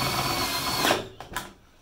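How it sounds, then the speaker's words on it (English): Power tool driving screws into a Samsung washing machine drum, a close whirring run that winds down, followed by two brief short bursts. "I'm going to tighten the screws now."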